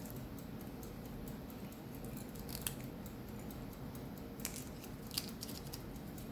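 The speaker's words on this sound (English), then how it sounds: "then I cut the circle out" Scissors cutting a circle out of printed paper for a craft embellishment, quiet close snips and small crisp clicks scattered irregularly over a faint background hiss, no speech.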